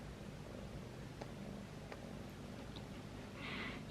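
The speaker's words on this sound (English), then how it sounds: "She's been following me all day, just purring" A purring cat, a female being cat-sat indoors, gives a low, steady, quiet rumble for several seconds with no talking.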